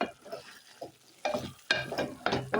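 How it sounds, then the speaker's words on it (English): Coriander stirred into frying Kienyeji chicken in a pan, heard as a soft sizzle under several distinct bursts of scraping as a utensil works through the pot. "once you add dania and stir,"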